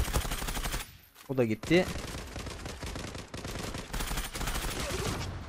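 Rapid bursts of M.PRO +6 gunfire in a video game, sharp cracking shots in quick clusters with brief gaps between them, while someone talks over the action.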